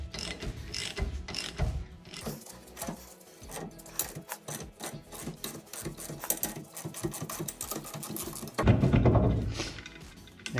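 Rapid ratchet clicking in repeated bursts as bolts are tightened to push a brake rotor off a 2004 Subaru WRX STI, close and loud, ending in a heavier thunk and scrape as the rotor frees.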